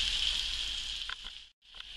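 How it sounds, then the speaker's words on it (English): Apples frying in a pan beside a pot of bubbling potatoes, a steady close hiss of sizzling that drops out for a moment and then resumes. "you can hear the apples sizzling away, potatoes are bubbling away"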